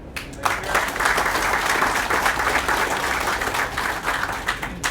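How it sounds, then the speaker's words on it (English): Audience applause at a Koch Foods ribbon cutting ceremony, a quick swell into sustained, dense clapping from a crowd that stays fairly loud and even for several seconds. "Get a round of applause."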